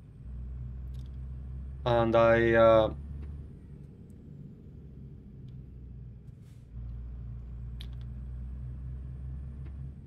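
A heavy-haul truck rumbles low and steady in a driving game amid highway traffic, a constant engine drone that briefly lifts and dips, with a short burst of speech near the start.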